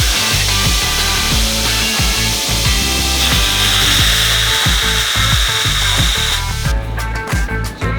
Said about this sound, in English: we're gonna sand that off.